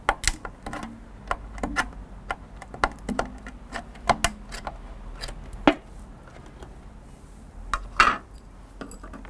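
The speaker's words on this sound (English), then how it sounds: "So we'll now move on to stirring it." Decking paint being stirred in a tin with a paint stirrer: close, irregular knocks, taps and scrapes against the metal, with no voices.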